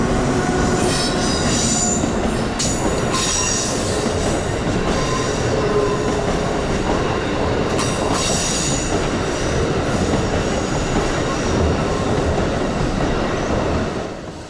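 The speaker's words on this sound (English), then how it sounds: "You can hear the Amtrak Regional hit the brakes hard" An Amtrak Regional passenger train rumbles loudly past at Norwalk, Connecticut, its wheels squealing in high, sustained screeches as it brakes hard, with steady clatter underneath.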